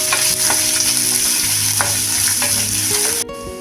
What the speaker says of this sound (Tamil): ஒரு பெரிய வெங்காயத்தை பொடியாக கட் பண்ணி சேர்த்துக்கணும் வெங்காயத்தை நல்லா வதக்கிக்கலாம்